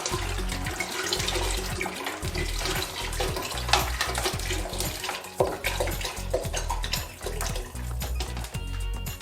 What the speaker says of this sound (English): And now I'm adding water.